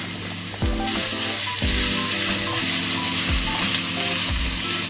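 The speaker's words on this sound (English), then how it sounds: "to this I'm gonna add crushed garlic, and I will saute it for just a minute" Crushed garlic sautéing in a pan for pink sauce pasta, a loud continuous sizzle with repeated low scraping strokes of a spoon stirring through it, no speech.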